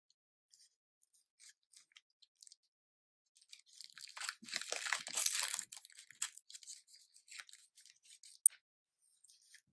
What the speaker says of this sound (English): Assemble your needle and syringe by opening each of the packagings